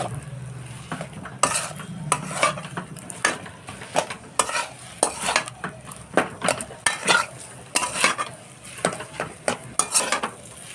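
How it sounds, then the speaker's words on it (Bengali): A spoon stirs ghee through a thick gulab jamun mixture in a pan, a run of repeated scraping and clinking strokes in an uneven rhythm over a faint sizzle, close and clear with no voices. "ঘিটা দিয়ে ভালো করে নাড়তে হবে।"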